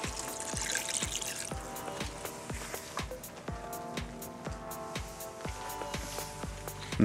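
Beef broth is poured into goulash in a Dutch oven, a soft, close trickle and splash with brief drips and faint clinks, quiet and without talking.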